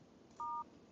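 Telephone keypad dialing tone in the video game No, I'm Not A Human: a single clear, steady beep of about a quarter second standing alone over faint background hiss.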